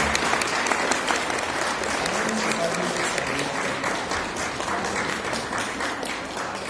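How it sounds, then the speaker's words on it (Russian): Audience applause at a live charity performance event, a steady, dense clapping that fills the whole stretch at constant loudness, with no speech over it. "аплодисменты!"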